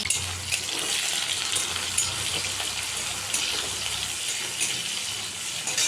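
Chopped onions sizzle in hot oil with cumin and dried chilli, a loud, steady, close frying hiss that runs unbroken throughout, with no talking.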